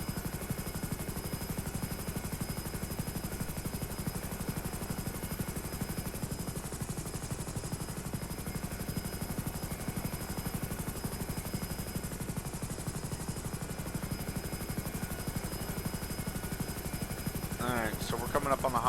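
A helicopter flies low over a city at night in GTA 5, its rotor and engine drone steady and loud across the whole stretch with no break, and a brief higher rattle comes in near the end.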